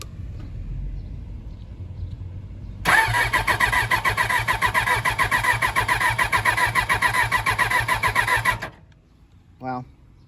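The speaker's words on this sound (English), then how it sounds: "she's cranking but not firing" A 1992 Suzuki Katana 750 motorcycle engine cranks steadily for about six seconds with the choke on and the clutch pulled in, a loud rhythmic starter churn that never catches, then stops with a brief faint sound afterward.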